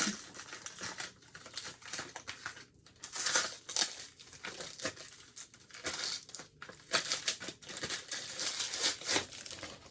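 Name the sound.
opening plastic packaging of an iPhone 12 case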